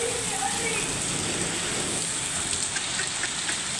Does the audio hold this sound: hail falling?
yes